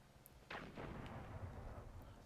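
A single heavy, muffled gunshot from the video game Destiny, fired in a solo Nightfall strike against Cerberus Vae III, booms once and rolls off into a low rumbling decay, quiet and distant.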